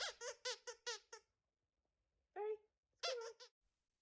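A squeaky plush squirrel dog toy squeaks in a quick run of about six sharp squeaks, then one short squeak and one more after pauses, loud and close against near silence.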